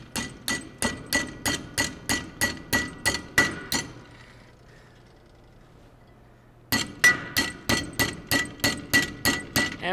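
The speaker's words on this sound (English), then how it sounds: "Tighten it, and we're just going to lightly tap this over." Metal clamped in a vise for a coat rack is lightly tapped with a hammer to bend it: an even run of sharp ringing taps, a pause of about three seconds, then another steady series, close and without talk.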